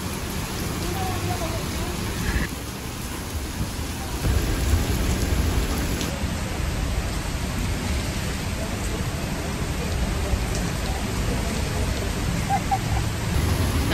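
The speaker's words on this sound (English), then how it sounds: "We're going home in the rain." Steady heavy rain hisses and patters close by, a dense wash of noise with a low rumble underneath and occasional faint voices.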